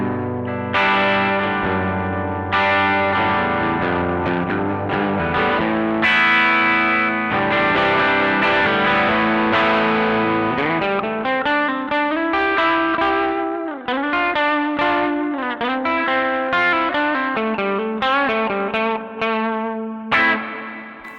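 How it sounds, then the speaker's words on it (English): Electric guitar played through a TC Electronic Arena reverb pedal on its parallel setting, sustained chords and single notes blooming into a wide, lingering reverb wash, loud and continuous with no talking. "there's this parallel setting, which is parlor maybe"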